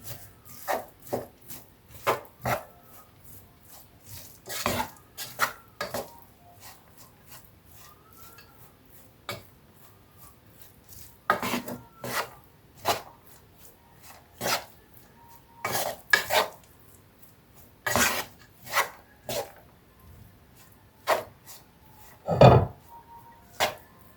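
A spoon stirs rice and bulgur dolma stuffing with dill in a pot, making scattered clinks and scrapes against the metal in an irregular rhythm, close by and with no talking.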